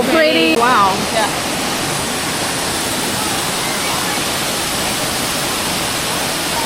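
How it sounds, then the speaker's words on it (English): Waterfall in the Byron Bay hinterland, a steady broadband rush of falling water that fills the scene, with a brief voice at the start before the roar continues alone. "Do you see the waterfall there?"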